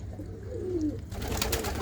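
A pair of Shah Akhi and black Dabba pigeons coo close by, one low rolling coo rising and falling before a burst of rustling noise.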